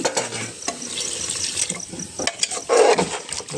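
Water poured into a cooking pot of goat mutton in a home kitchen, a short splashing, sizzling rush near the end over steady stirring and frying noise, close and fairly loud.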